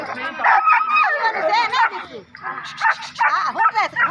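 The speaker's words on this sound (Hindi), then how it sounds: "ये देखें जी एक फैंसी कुत्ता आ चुका है बड़ा" A dog barks and yips repeatedly in short, excited bursts close by, with whimpering notes between them and no pause.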